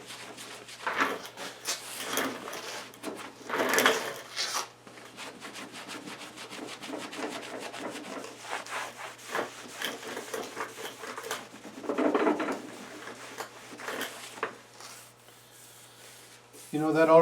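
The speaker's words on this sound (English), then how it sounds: "So I'm going to start to rub it off." A hand rubs wax off a snow plow blade with irregular, soft scraping and rubbing strokes, some louder bursts among quieter passes.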